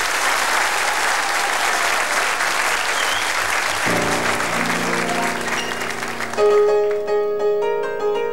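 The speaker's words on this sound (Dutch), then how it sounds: "Applaus." Audience applause for an orchestra at the Koppensnellers 2006 show: a dense, loud wash of clapping that carries on while sustained musical tones enter partway through and swell toward the end.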